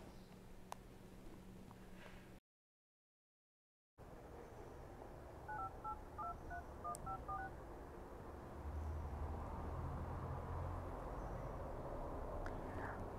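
A telephone number is dialed as a quick run of touch-tone beeps over a low room hum, clear and fairly close, with no voices.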